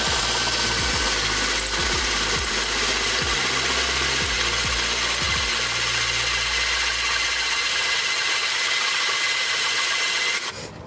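A power tool grinds continuously as it enlarges a greased bolt hole through a crankshaft, with a steady high whir and a series of rhythmic low knocks before the motor winds down near the end.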